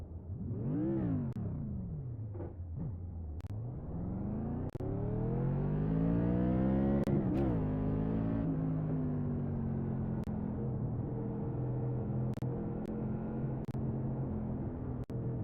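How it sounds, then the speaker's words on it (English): A car engine revs up and down repeatedly, rising and falling in pitch, close by and loud, with occasional sharp clicks and no speech. "I accidentally just fucking jumped on the throttle and revved it up instead"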